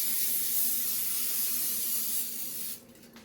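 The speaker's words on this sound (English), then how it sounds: "So let's spray our sheet." A steady, close hiss of cooking spray onto a baking sheet lasts nearly three seconds, then cuts off, leaving faint room noise.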